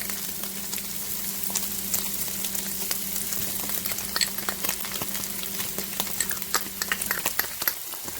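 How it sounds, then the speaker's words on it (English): Garlic fries in a hot pan, giving a steady close sizzle with crackling pops and a low hum underneath, loud and continuous for the whole stretch with no talking. "So now, let's add in the garlic."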